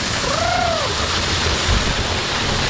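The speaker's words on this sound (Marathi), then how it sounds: "तो आपण म्हणून चाललो आहे आता धबधब्याखाली." Kalu waterfall in Malshej Ghat heard while walking beneath the falling water, a loud, dense, continuous roar of pouring and splashing water close to the microphone, with a brief tone rising and falling early on.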